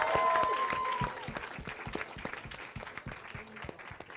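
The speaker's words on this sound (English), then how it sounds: "let's get one more round of applause for our 4 student trustee candidates." Audience applause for four student trustee candidates at a school board all-candidate debate, a sustained wash of many hands clapping that starts loud and gradually thins, with faint voices underneath.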